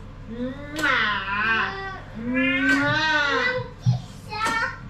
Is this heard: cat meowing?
yes